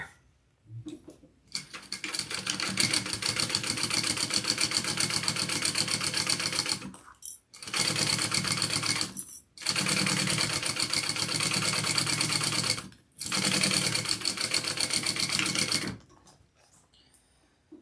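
A sewing machine top stitching a crossbody bag runs in several loud, fast, continuous bursts separated by brief pauses, close and steady, with no voices.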